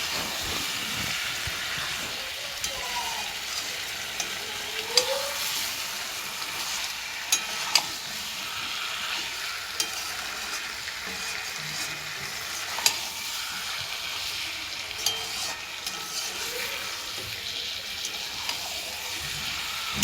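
Mutton sizzles in a wok while a spatula stirs it, a steady loud fry broken by sharp scraping clicks and knocks against the metal every few seconds.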